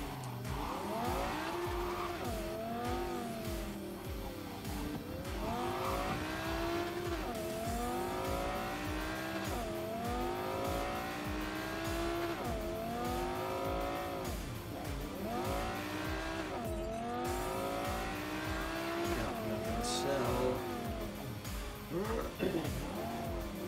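A game car driving through city streets in Cyberpunk 2077, its engine note rising and falling in repeated revving sweeps with occasional tire squeal, loud and continuous, with someone talking over it.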